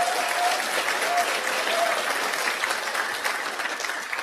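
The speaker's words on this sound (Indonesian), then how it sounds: "tepuk tangan dong gitu." Audience applause fills a presentation hall, a steady dense clapping from many hands that holds evenly throughout before easing slightly toward the end.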